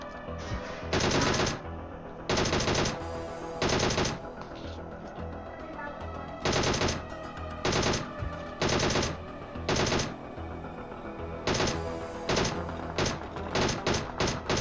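Repeated bursts of automatic gunfire in a team-based shooter video game, loud and close, coming in short rapid volleys separated by brief pauses over a steady background of game sound.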